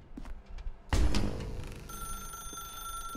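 A telephone rings in The Stanley Parable: Ultra Deluxe, a sharp thump followed by a close, sustained electronic ring with no voices.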